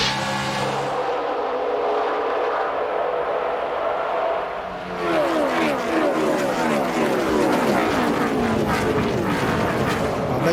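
NASCAR Craftsman trucks roar back to speed on the restart at Kansas, a dense, rising wash of engine noise that swells midway and stays loud and sustained.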